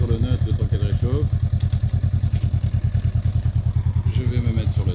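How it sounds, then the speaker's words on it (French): A Honda Rebel 500 motorcycle engine idles in neutral while warming up, a steady, close, rapid thumping pulse throughout, with someone talking over it at the start and end. "Je peux lâcher ma clutch et la laisser runner, la laisser réchauffer."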